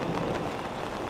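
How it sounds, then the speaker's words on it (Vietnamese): Thunder during rain over the Lùng Phình ethnic market: a low, dense rumble blended with steady rainfall, continuous through the short stretch with no voices. "Đấy, các bạn có nghe tiếng gì không? Đó là tiếng sấm ấy các bạn."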